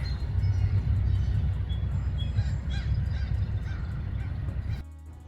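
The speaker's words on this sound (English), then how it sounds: "Hi geese! Look at it." Geese honking outdoors near a workplace, repeated calls in a steady flock chorus over broad outdoor background noise, moderately close, ending abruptly.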